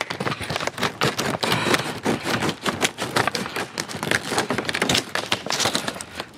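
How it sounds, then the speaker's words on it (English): Scissors snipping through stiff packaging of an Outwell Margate camping kitchen unit, a rapid run of crisp cuts and crinkly scraping, close and fairly loud, with no voices. "These scissors are working easily through this."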